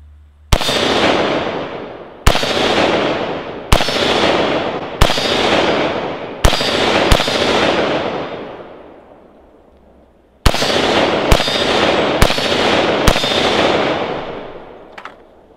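Ten sharp rifle shots from a Beretta ARX 100 fired outdoors at a range, each loud report trailing off in a long echo, spaced one to two seconds apart with a short pause midway.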